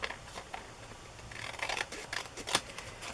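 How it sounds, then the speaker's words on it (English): A paper trimmer slices the edge off coffee-dyed paper with several quick, crisp cutting and rustling sounds close by, the sharpest snip coming near the end. "I'll just barely trim that off with my trimmer when it's drier."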